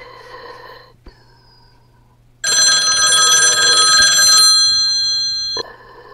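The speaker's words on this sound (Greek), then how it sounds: "χτυπάει το τηλέφωνο" A telephone bell rings in one sustained, loud burst of about three seconds, bright and metallic, set between quiet stretches of low background hum.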